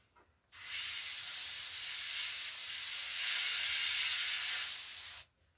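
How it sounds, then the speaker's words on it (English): An airbrush sprays paint onto the laces of a blank latex Leatherface mask, giving one steady, close airy hiss lasting about five seconds that cuts off abruptly. "And airbrush these laces."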